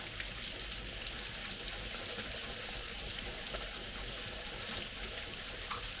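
Konjac noodles are rinsed under a running kitchen tap, making a continuous, even hiss of splashing water close by that holds steady throughout without pause.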